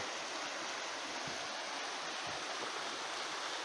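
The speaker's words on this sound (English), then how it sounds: "Not a very big river, but a very nice one." A small river near Marymere Falls flows with a steady, even rushing of water that holds at a constant level throughout, with no voices over it.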